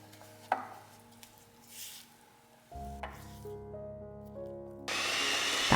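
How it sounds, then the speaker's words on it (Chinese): Softened cream cheese and powdered sugar are whipped with a mixer: quiet scraping and clicks come first, then a steady motor whine starts and grows to a loud, full buzz in the final second. "打发成柔软的糊状"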